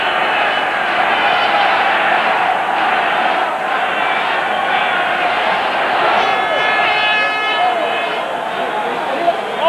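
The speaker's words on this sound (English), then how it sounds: "Not quite a full house, but it's a pretty good crowd" Rugby crowd at Lansdowne Road in Dublin during Ireland versus Romania at the 1999 World Cup, a broad continuous roar and murmur with scattered shouts, heard at a distance.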